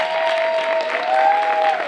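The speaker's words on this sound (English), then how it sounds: "give our finalists a hand and a round of applause" An audience at a school vocabulary bowl applauds its fifth-grade finalists, a steady, dense wash of clapping from a crowded room that holds level throughout, with a faint tone running underneath.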